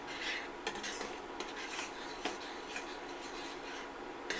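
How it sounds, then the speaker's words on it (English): Salsa verde stirred in a pan with a utensil, giving soft continuous scraping and rubbing with a few sharper clinks over a low cooking hiss. "we're going to give this other one a stir"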